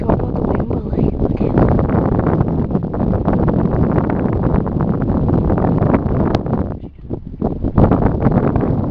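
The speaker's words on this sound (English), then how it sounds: "It's kinda windy" Strong wind by a lake buffets the microphone in a continuous low roar, gusting unevenly with a brief lull partway through.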